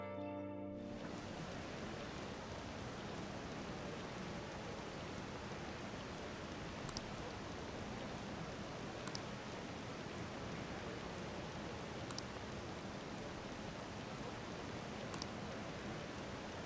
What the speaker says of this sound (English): Since it's raining, we should stop by the diner.